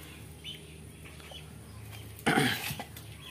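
Guinea fowl calling on a farm: a loud, harsh burst of squawking calls erupts near the end and fades quickly, after quieter scattered chirps over a steady low background hum.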